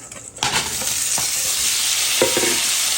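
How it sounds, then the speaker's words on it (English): Oxtail dropped into a hot pot for Jamaican-style oxtail, bursting into a loud, steady sizzle and frying hiss that carries on to the end, with a few stirring scrapes. "I am going to put the oxtail in the pot"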